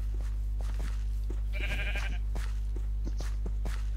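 A single short sheep bleat from the video game Minecraft, heard briefly amid a steady low hum and scattered clicking game sounds, with no talking.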